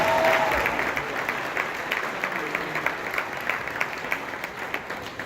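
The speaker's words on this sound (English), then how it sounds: "please give all of them a round of applause" An audience at a comedy show in Maryland applauds the comedians, dense sustained clapping from a crowd filling a hall, steady and fairly loud throughout.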